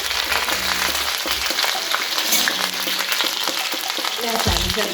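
Onions sizzling in hot oil in a pan for chicken curry, a loud continuous crackle with occasional stirring scrapes and clunks, close up with no voices.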